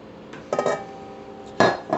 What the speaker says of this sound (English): into the big ass mixer, I'm putting 6 eggs that I have cracked and made sure that there are no shells